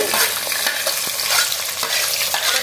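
Small shallots frying in oil in a pan for red snapper fish curry, a loud, continuous crackling sizzle with occasional stirring scrapes, close up and without talk.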